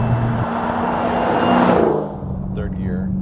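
Dodge Challenger SRT Hellcat 707-horsepower engine pulling in third gear, a loud close droning roar that builds, then eases off, with a voice speaking near the end.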